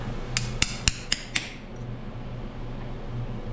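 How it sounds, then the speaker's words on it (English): A hammer strikes metal on a J.I. Case VAC tractor under restoration, five sharp ringing blows in quick, even succession, then a low steady hum with no talking. "I'm hitting it pretty hard. I guess if you had too big of a hammer, you could break it."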